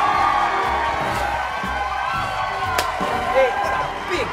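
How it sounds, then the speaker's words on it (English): A big studio audience at a live talk show fills the room with continuous cheering, whooping and clapping, a dense roar of crowd noise with scattered shouts and a few sharp slaps. "It's a big crowd."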